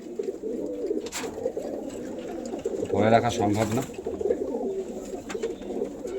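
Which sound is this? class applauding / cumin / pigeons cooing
pigeons cooing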